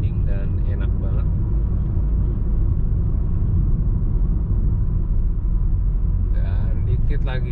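A deep, continuous road and engine rumble from inside a moving Honda Jazz GK5, Australian version, holds steady, with short stretches of speech near the start and the end.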